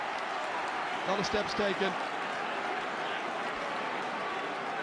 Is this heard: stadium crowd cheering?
yes